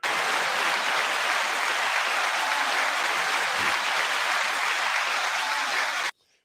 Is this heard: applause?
yes